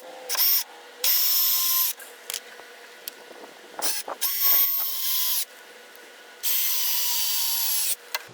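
A power drill drives 3-inch exterior deck screws into wood for a raised garden bed, with several whirring bursts of about a second each, separated by short pauses and small clicks, close by.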